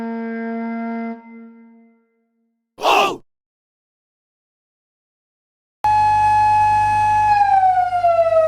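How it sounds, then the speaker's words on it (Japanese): A seized fake police car, a modified passenger car fitted with a siren and red light, sounds a loud wailing siren, a short tone first and then, after a pause and a brief burst of noise, a sustained steady wail that falls in pitch at the end. "サイレンを鳴らし赤色灯も点灯するこの車、パトカーではなく押収された偽物のパトカーです。"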